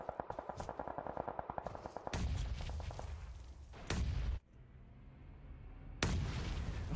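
Grenade explosions in competitive PUBG Mobile, a rattle of rapid gunfire followed by heavy booming blasts, one after another, with a sharp cutoff and another loud blast near the end.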